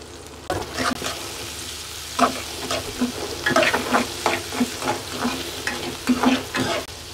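Onions stirred in frying oil for Lote fish jhuri, a constant close sizzle broken by repeated scraping strokes of a utensil against the pan at an uneven rhythm.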